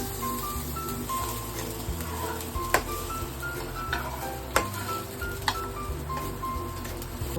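Chopped onion and garlic sizzle in hot oil in a home kitchen pan, a soft steady frying hiss with occasional clicks and scrapes of stirring, no talking.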